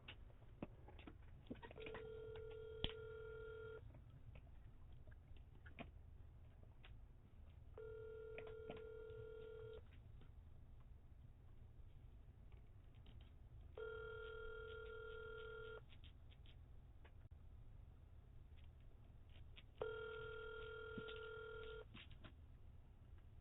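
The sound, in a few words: telephone call dialing and ringing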